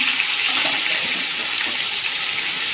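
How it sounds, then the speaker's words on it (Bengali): Live fish dropped into hot oil, a loud, steady hiss and crackle of frying that fills the whole stretch without pause. "তেলটা গরম হয়ে গেছে, তেলের মধ্যে মাছগুলো দিয়ে দেবো"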